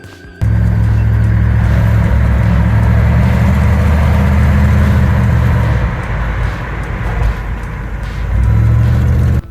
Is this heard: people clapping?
no